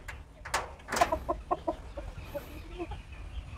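A crossbred labuyo and local fowl chicken about two years old, in a backyard coop in Vanuatu, clucks in a quick run of short, close notes, then a few softer clucks trail off against quiet background noise.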